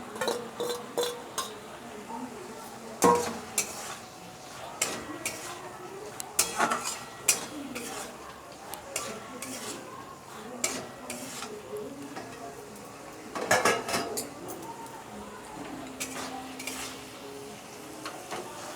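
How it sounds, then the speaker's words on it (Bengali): Potatoes cook with spiced chicken mince in a pan, with a spoon clattering and scraping against the metal in irregular bursts over a low sizzle. "এই মশলার সাথে মাংসটা ভালো মতো করে কষে গেছে দেখুন তেল ছেড়ে দিয়েছে এবার আমি আলুটা দিয়ে দিচ্ছি"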